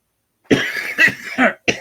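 A person nearby coughs and clears their throat in several rough bursts over about a second and a half, with no words spoken.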